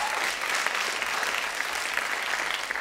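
Comedy show audience breaks into sustained applause, a dense, even roar of many hands clapping from a large crowd, moderately distant and unbroken by talk.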